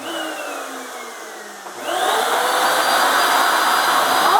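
A vacuum sucks air out of a storage bag packed with a crochet blanket, a rug and pom-poms, starting as a steady whine and then jumping to a louder, continuous roaring hiss close by.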